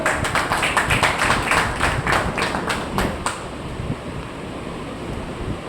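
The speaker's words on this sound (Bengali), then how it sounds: "জোরে হাত তালি হোক।" A social worker meeting audience in Malda District claps together for about three seconds, brisk and fairly close, then the clapping stops and only faint background noise remains.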